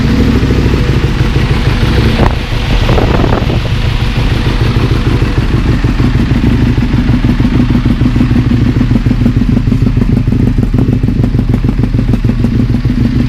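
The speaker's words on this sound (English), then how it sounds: "I hear the exhaust and the rumble of the V-twin motor" An EBR motorcycle's V-twin engine idling close and loud, its exhaust giving a constant low throbbing rumble with a brief revving surge early on, then a steady lumpy idle throughout.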